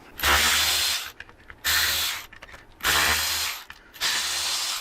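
Headlight bolts being removed from a Harley Softail with a power ratchet, four bursts of whirring buzz, each about a second long, separated by short pauses with light clicks and handling noise.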